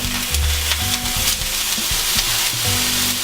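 Thin chicken chops sizzle and fry loudly in a hot pan, a steady close crackle with brief stirring or shifting sounds and no talking.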